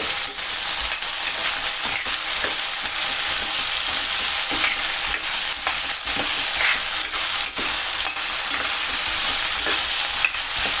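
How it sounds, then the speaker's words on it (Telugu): Onion and potato pieces fry in a pan for aloo capsicum curry. A loud, steady hiss of oil runs throughout, broken by repeated scraping and knocking as the pieces are mixed. "ఉల్లిగడ్డ ఆలుగడ్డ ముక్కలు వేసుకోండి మంచిగా మిక్స్ చేసుకోండి"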